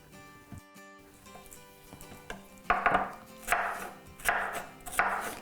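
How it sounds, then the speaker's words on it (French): A knife chops a red bell pepper on a cutting board in a home kitchen, with distinct close taps that begin sparse and grow into a steady, louder chopping rhythm, and no talking. "Là maintenant, je vais couper le poivron."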